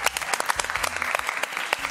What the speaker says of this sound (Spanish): Un aplauso para eles.